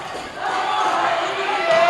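Rival Weyburn and Estevan fans roaring and chanting in a school gym during a girls' basketball game, a loud, sustained crowd swell that builds slightly toward the end.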